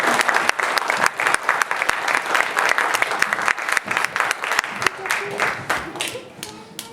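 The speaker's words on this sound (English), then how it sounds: "A round of applause for the Member of Parliament for West Bengal." Enthusiastic audience applause greeting a Member of Parliament introduced as a guest at a Holi 2016 event, crisp overlapping claps sustained for several seconds before tapering off, with a voice briefly audible near the end.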